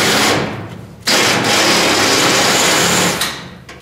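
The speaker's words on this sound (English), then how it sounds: "I'll drill out these Cleco holes here now" A power drill boring out Cleco holes in a steel fender panel, a loud close steady whine that briefly drops off, restarts and runs continuously before winding down.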